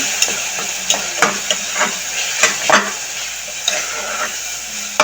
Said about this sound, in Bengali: সামান্য ধনের গুঁড়া সামান্য মরিচের গুঁড়া দিয়ে আমি মশলাগুলো ভালো করে কষিয়ে নেব